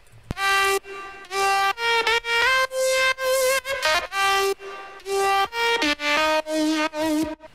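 A bright synth lead for a vocoder effect made in FL Studio with stock plugins plays alone as a loud, choppy melodic line of short and held notes.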